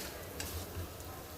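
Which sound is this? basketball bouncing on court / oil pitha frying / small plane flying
oil pitha frying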